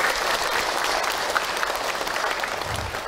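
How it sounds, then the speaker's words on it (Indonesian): At an Islamic sermon, the gathered audience breaks into lively, dense applause, many hands clapping close and loud for a few seconds, with a faint low rumble of the room beneath it. "Tepuk tangan buat Tuhan."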